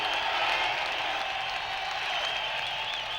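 Crowd applause at the 1954 Le Mans race as a Jaguar D-Type comes in, a steady wash of clapping held at an even level throughout, somewhat distant and without clear individual claps.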